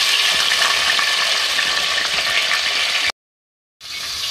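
Chicken fries in oil with cloves, black pepper and whole spices, a steady dense sizzle that cuts out briefly near the end and then resumes.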